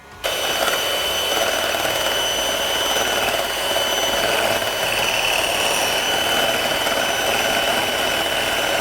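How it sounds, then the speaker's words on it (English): An electric mixer whips cream to thick peaks for a smoked chicken recipe, a steady whirring motor hum that starts abruptly and runs loud and unbroken with no talking. "So in the meantime, I'm going to get our whipped cream going. It needs to be nice thick peaks."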